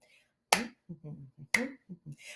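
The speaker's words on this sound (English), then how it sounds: "I want you to make claps and circles with your hands." Two sharp, loud hand claps about a second apart, each followed by a short run of softer patting or tapping taps, at a steady children's rhythm game pace.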